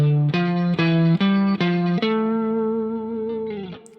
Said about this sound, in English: this exercise is all about playing scale shapes in thirds